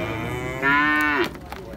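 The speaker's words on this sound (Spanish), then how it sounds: "Esta es la cría de la vaca chota que pusimos en el principio." A dairy cow's calf lets out one clear, close moo lasting about half a second. A steady farm background hum sits underneath.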